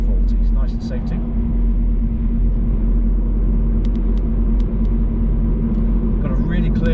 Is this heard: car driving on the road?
yes